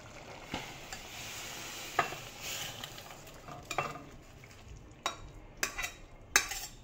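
Spoon scraping and stirring cashew potato curry (kaju aloo curry) out of a cooking pan into a bowl, several sharp metallic clinks and scrapes scattered over a low background hiss.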